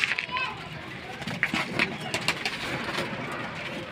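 Pigeons coo and flutter close by on a rooftop while someone talks over them and children's voices sound in the background.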